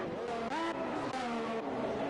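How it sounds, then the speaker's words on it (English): An F1 2021 race car in a Canada Grand Prix race, driving in the rain, with a continuous engine whine rising and falling through gear changes, loud and close, with no talking. "as Maselli struggles to get the car through the corners there"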